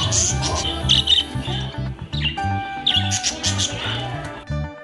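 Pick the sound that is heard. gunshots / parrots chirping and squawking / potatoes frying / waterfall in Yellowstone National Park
parrots chirping and squawking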